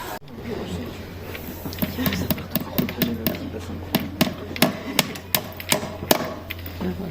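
Sharp hammer blows driving a nail into a tree trunk at a sanctuary in Rocamadour, a run of irregular taps and knocks spread across the clip over steady outdoor background hum.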